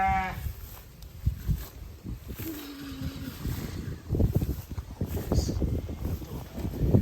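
Goats in a livestock pen give a couple of short bleats amid rustling, shuffling and hoof-like knocks, heard at moderate distance with faint background voices.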